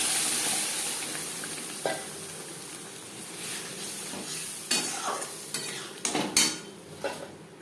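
Masoor dal goes into garlic sizzling in a pan and gets stirred, a soft frying hiss broken by several sharp clinks and scrapes of a utensil against the pan.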